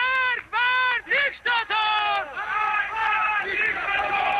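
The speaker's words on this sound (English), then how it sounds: "you hear the crowd there chanting, death to the dictator" A crowd of demonstrators in the streets of Tehran chants slogans in unison, loud and close, in short rhythmic bursts that blur into a continuous roar of many voices.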